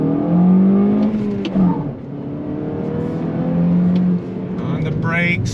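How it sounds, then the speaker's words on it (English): A 2022 Toyota Corolla hatchback with a 6-speed manual doing rev-match downshifts: a close engine drone with two quick throttle blips, one near the middle and one near the end, while the driver talks. "when I downshift, you get those blips with the automatic rev match downshift"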